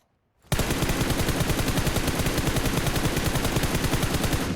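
Automatic gunfire in the mobile game PUBG Mobile starts abruptly after a brief silence and continues as a loud, rapid, evenly spaced burst of shots to the end.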